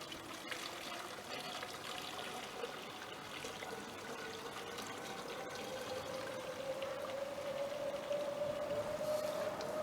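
Liquid poured steadily into a garden sprayer tank, a continuous close splashing trickle whose pitch rises slowly as the container fills, with no talking.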